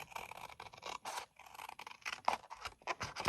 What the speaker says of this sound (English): Now to cut it straight.